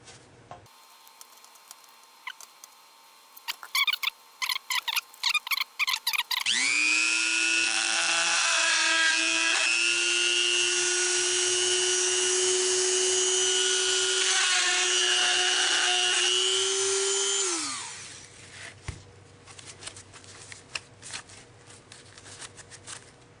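Power drill boring holes through PVC pipe for a camera pole mount: a steady, loud, whining drone runs for about eleven seconds and then spins down, with lighter clicks and handling noises before and after.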